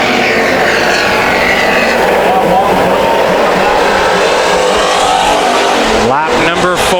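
Hobby stock cars roar around the Bakersfield Speedway short track during an eight-lap heat race, a loud continuous engine drone with a pass-by whine near the end, under an announcer's talk.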